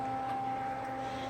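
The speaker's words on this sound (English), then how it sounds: "apologize for the noise, as we've got this big HP power supply" A big HP bench power supply fan gives off a steady whirring hum with a constant tonal drone under broadband air noise, close and continuous with no talking.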